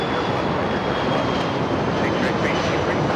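Airliner taking off from runway 25 right at LAX, a broad steady roar of jet engines at moderate distance, continuous and even with faint overlaid radio chatter.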